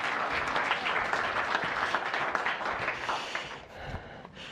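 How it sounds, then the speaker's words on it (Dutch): Audience applause for a lecturer at a talk on digitalisation and jurisprudence, a dense, steady wash of many hands clapping together, sustained and fairly loud before easing slightly near the end. "Graag ook een applaus."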